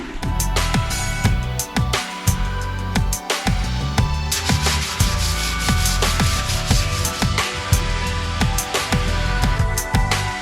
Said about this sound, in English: now Brent is on to sanding.